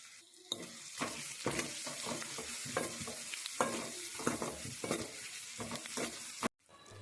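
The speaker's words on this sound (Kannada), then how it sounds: "ಇದು ಎಣ್ಣೆಯಲ್ಲಿ ಸ್ವಲ್ಪ ಫ್ರೈ ಆದಮೇಲೆ" Food sizzling in hot oil in a pan, with steady frying crackle and repeated stirring scrapes close by, ending in a sudden cut to near silence.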